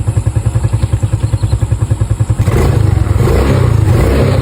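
A close, loud motorcycle engine runs with a rapid pulsing idle that swells into a steadier, rougher revving roar halfway through, with no other sounds over it.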